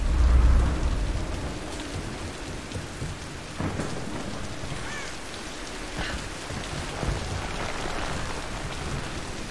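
Rain pours steadily in a Tomb Raider: Definitive Edition storm, with heavy thunder rumbling loud and close at the start and fainter rolls and cracks recurring through the downpour.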